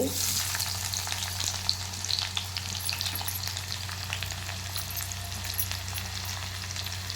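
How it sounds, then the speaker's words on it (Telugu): Curry leaves and onions frying in hot peanut oil give a steady, loud, close sizzle that crackles evenly for the whole stretch, with no voices over it. "కరివేపాకు ఉల్లిపాయలు వేసుకున్నాను కదా"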